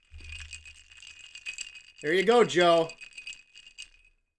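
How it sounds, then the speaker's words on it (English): Ice cubes clink and rattle against a glass of whiskey in a light, scattered series, with someone speaking briefly in the middle. "That's the sound of whiskey in a glass with ice."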